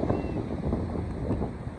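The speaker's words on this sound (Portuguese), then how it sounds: "Muito vento, galera. Nem sei se vocês vão conseguir me ouvir bem." Strong wind at Maitinga beach in Bertioga on a cloudy day blows as a steady, loud rush of buffeting across the microphone, filling the short stretch with no clear talk.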